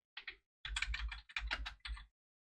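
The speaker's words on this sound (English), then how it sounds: "I can start typing some shit" Clattering keystrokes on a computer keyboard in three close bursts of rapid typing separated by brief pauses, fairly quiet and without speech.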